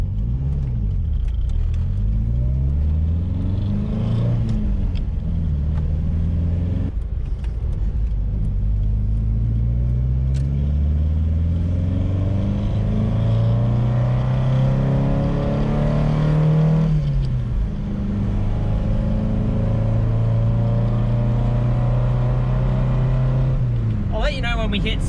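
A car drives on the road after a suspension upgrade; the engine hums and climbs through several gear changes, seen from inside the cabin, while people chat over the steady road noise.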